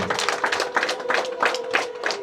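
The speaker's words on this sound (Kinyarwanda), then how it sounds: "Amashyi n'impundu, amashyi kapi" Steady clapping from a gathered crowd welcoming family at a Rwandan cow-gift ceremony, rhythmic even beats with a sustained high ululating tone running underneath.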